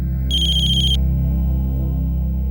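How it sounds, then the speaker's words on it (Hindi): An incoming call sets off a phone ringtone: a brief, bright electronic warble lasting under a second over a low steady hum. "ताई, बाबा का फोन आया है।"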